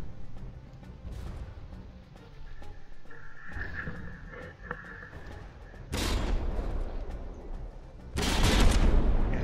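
Heavy gunfire and artillery blasts from a From the Depths naval battle, with distant shots early, then two loud, close broadband explosions bursting in near the middle and end over a constant rumble.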